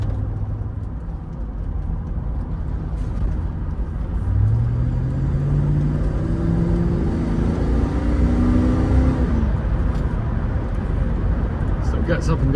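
A British Racing Green Range Rover Classic V8 on the road, its engine rumbling steadily inside the cabin and then revving up with rising, climbing pitch; a voice talks over the drive.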